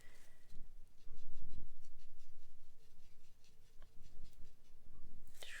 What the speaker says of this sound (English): A little bit of paper towel, kitchen roll.